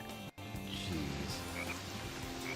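Giant frogs croaking in the video game Sonic Heroes, a steady layered croaking drone mixed into busy game music and effects for the whole stretch.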